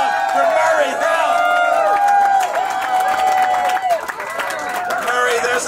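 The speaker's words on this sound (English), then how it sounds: "Let's hear a better round of applause for Murray Hill" A crowd applauds and cheers for Murray Hill at a live talk-show style event, loud sustained clapping mixed with whoops and a tonal voice-like line running over the top.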